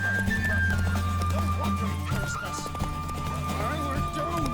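A horse gallops in The Witcher 3: Wild Hunt, its rhythmic hoofbeats running continuously under game music and a spoken voice, steady and moderately loud throughout.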